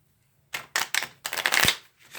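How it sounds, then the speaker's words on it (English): Several quick riffling bursts of playing cards being shuffled, crisp and close, in short uneven runs with brief pauses between. "you can again do another shuffle"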